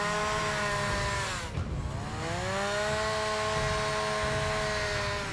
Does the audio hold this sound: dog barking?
no